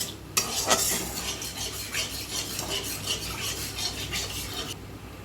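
Pre-fried potatoes tipped into hot oil for chicken korma, a sudden burst of sizzling followed by rhythmic scraping and stirring against the pan, close and steady before fading at the end.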